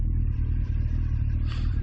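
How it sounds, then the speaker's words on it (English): A van engine revs close by on a road, a loud low rumbling drone with a brief rise in pitch, heard alone over a short moment beside a Suzuki GSX1400 motorcycle. "then I can hear him revving his engine"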